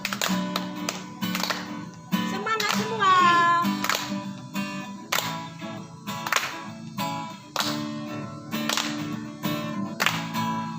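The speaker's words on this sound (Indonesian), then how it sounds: "Dengan tepuk tangan kita bernyanyi adik-adik" Children at a church Sunday-school gathering sing a hymn while clapping along, sharp regular claps punctuating the singing and keyboard accompaniment, with a voice speaking briefly.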